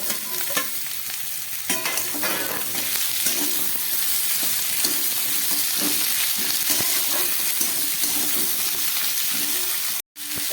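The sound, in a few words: beans, potato, onion and beetroot frying and being stirred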